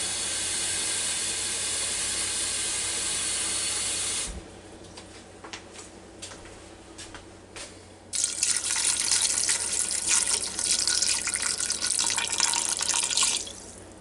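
Water pours steadily into a Ninja Foodi pot over dry egg noodles, a loud continuous rush that breaks off into drips and splashes midway, then resumes as a strong, close stream.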